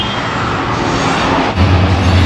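A train rumbles past along a roadside in Sri Lanka, a steady, dense mechanical roar with a deeper low rumble swelling near the end, no voices.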